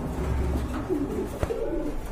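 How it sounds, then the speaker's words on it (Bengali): Domestic Danish pigeons coo in low, rolling phrases, steady and near, against a constant background hum at a bird market, with no talk over them. "এখানে কিন্তু ড্যানিশের একটা মাদি কবুতর আছে, খুবই সুন্দর চমৎকার"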